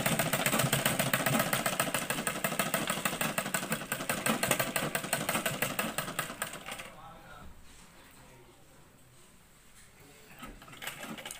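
A sewing machine stitches the side slits of a jumper garment, running in a fast, loud, steady rhythm for about seven seconds before stopping, leaving faint handling noise and a brief restart at the end.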